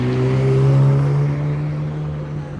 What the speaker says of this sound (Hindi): देखो वहाँ से आ रही है रेड सुपर कार